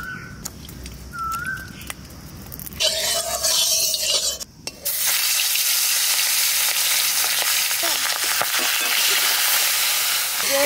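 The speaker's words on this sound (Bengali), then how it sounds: "ভাজার জন্য কড়াইতে সর্ষের তেল দিয়ে দিচ্ছি।" Mustard oil in a wok for frying, starting with a few soft bird whistles outdoors, then a sudden loud burst of sizzling that settles into a steady, close, hissing crackle.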